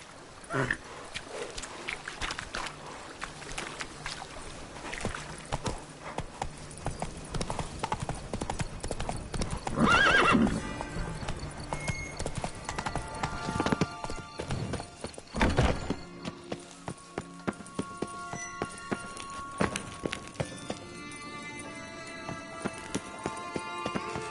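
Roach, the horse in The Witcher 3, gallops in a quick, steady clip-clop of hooves, loud and close, with brief louder bursts partway through.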